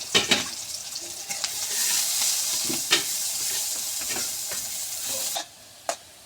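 Chopped onions and green chilies hiss steadily in hot oil in a pan, with a few scraping stirs and clinks over the constant sizzle before it suddenly drops away near the end.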